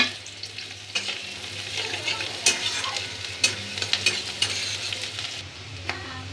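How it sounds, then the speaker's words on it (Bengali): Five-spice seeds crackling in hot oil with chopped onion and green chili, a loud close sizzle broken by repeated stirring clatters and scrapes of a spatula against the pan. "এবার ওই তেলে একটু পাঁচ ফোড়ন দিয়ে দেবো।"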